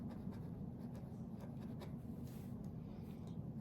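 A math expression is written by hand, a soft, scratchy rubbing of strokes that comes in short bursts against a quiet background, with no speech.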